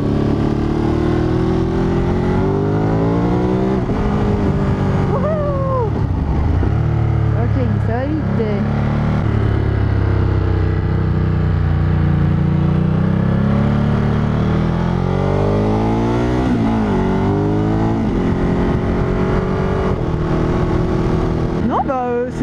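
A Ducati Monster 937 motorcycle engine drones loudly and continuously from up close, its pitch sweeping up and down through gear shifts and throttle changes while a rider talks over it.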